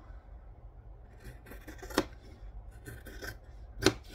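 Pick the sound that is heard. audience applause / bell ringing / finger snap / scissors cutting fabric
scissors cutting fabric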